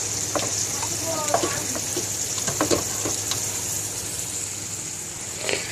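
Enchilada ingredients sizzle and crackle steadily in a hot pan, with sharp pops and a few clinks of a utensil stirring, no talking.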